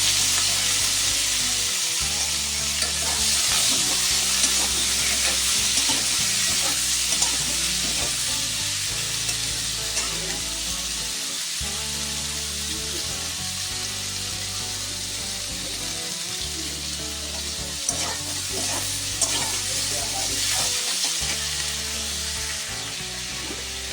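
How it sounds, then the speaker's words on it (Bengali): Potato, brinjal and onion pieces frying in hot oil after the spice tempering, for a Bengali puti fish and brinjal dish. A loud, steady, close sizzle and hiss runs throughout with no talk. "ফোড়ন দেওয়ার পরে আলু বেগুন পেঁয়াজ যেগুলি কেটে রেখেছিলাম আমি সেগুলিকে এখন ফেলে দিয়ে দিচ্ছি"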